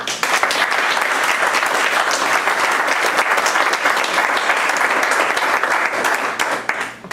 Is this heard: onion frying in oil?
no